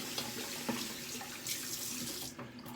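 A tap runs steadily into a sink while hands are rinsed after lathering shaving soap, a constant close splashing hiss with small shifts as the hands move under the stream.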